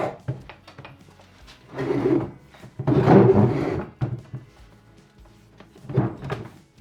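An old wooden cupboard door in an 1875 house is handled and shifted, giving a series of dull wooden knocks, rubs and thunks close by. No one speaks.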